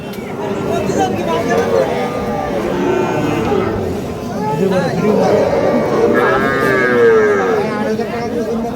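A calf mooing at a cattle market, several drawn-out lowing calls rising over a constant din of crowd chatter and people talking nearby.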